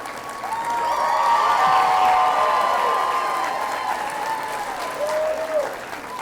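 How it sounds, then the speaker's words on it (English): A political announcement audience claps loudly and steadily for several seconds, a dense sustained applause that swells and then slowly tapers, with a few voices faintly mixed in. "judging by all the claps"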